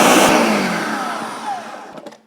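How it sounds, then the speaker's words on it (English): A blender whirs on high, loud and close, crushing ice into a shamrock protein shake with plenty of milk; the motor's roar fades gradually, followed by a few brief clatters at the end. "blend this on high for 1 minute"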